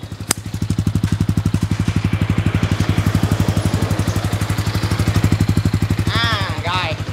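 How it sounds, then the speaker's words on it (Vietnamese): A Yamaha Exciter 155 VVA motorcycle idles on its current exhaust, a steady, even thumping pulse running close and loud throughout, with a few faint chirps near the end. "Đây là tiếng bô hiện tại."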